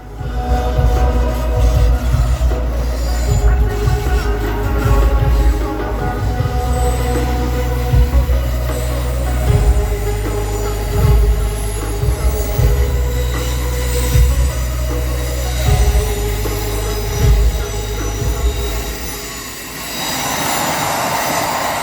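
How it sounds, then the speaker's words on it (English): An Amtrak Regional passenger train rumbles past loudly and close in Bridgeport, Connecticut, with wheels squealing and rail clatter continuing throughout before the noise thins near the end. "I caught Amtrak Regional train 136 on track 2"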